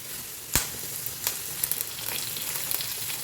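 Mustard seeds, urad dal and curry leaves sizzle in hot oil for a raw banana poriyal, a dense steady crackle with a few sharp pops near the start.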